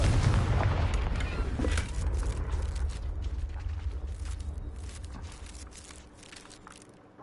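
A Confringo spell explosion in Hogwarts Legacy erupts as a loud, heavy blast with a deep rumbling boom that slowly decays over several seconds, with no voices over it.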